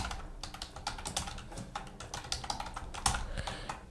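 Rapid typing on a computer keyboard while entering a first and last name, a steady run of close, crisp key clicks with brief pauses and a sharper tap near the end, no voices.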